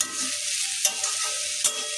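Green chillies and nigella seeds sizzle in hot oil in a wok, a steady bright hiss broken by a couple of short stirring clinks.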